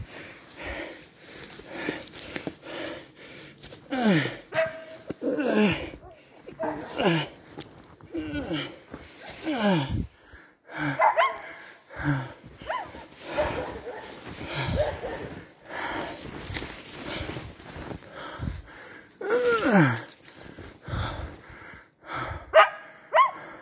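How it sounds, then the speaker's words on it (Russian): A laika hunting dog barks persistently in a forest while hunting a marten up a birch tree, repeated loud barks and yips in irregular bursts with sniffing and people talking intermittently between them. "Наверное, березу лает."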